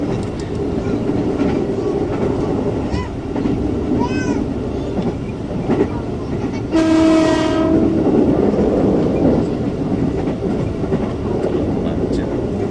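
A KRL commuter train rumbles steadily along with rattling carriages between Solo Jebres and Yogyakarta, and partway through a loud horn blares for about a second before the rolling noise continues.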